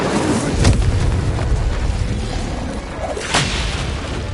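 Incendio fire spell cast in the video game Hogwarts Legacy, sounding as loud booming, fiery bursts over a dense rumbling battle bed, with two sharper blasts standing out near the start and toward the end.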